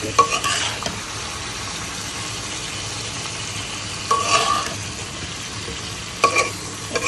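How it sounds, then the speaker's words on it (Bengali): Vegetables being lightly fried in mustard oil and ghee for beef biryani or tehari, a low steady sizzle with scraping stirs and a few louder clatters of the utensil against the pan, no talk. "একটু লাইট করে ভেজে দিলাম"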